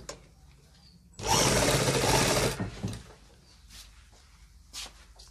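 A sewing machine stitching the back pocket onto gents' trousers runs in one loud, fast, even burst of about a second and a half, close by, with quiet handling sounds before and after.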